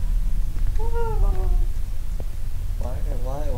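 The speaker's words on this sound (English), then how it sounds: "That's cat." A cat meows twice in the horror video game Slay Bells, short rising-and-falling cries separated by a pause, heard beneath someone talking over a constant low background hum.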